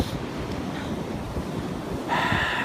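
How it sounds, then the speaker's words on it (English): Ocean waves surge and crash on the Brooklyn shore during a 2016 blizzard, a steady roar of surf mixed with wind buffeting the microphone, swelling louder with a hissing wash near the end. "the waves down here are absolutely crazy."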